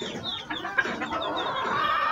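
Sebright chickens cluck softly in a short, continuous stretch of close, busy clucking and chirping, with no talk.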